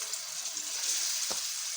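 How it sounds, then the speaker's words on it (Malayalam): Mackerel marinated in masala is laid into very hot oil, giving a steady close hiss of frying with a single soft splash or clatter partway through, and no talk. "അപ്പം നമ്മളിനി മീൻ ഇടുകയാണ്."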